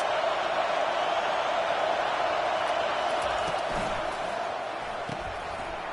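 Steady roar of a stadium crowd at an Oregon football game, a broad, sustained wash of noise from the stands that eases slightly toward the end.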